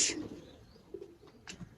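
Soft, distant pigeon cooing with a few faint flutters and chirps over quiet outdoor ambience.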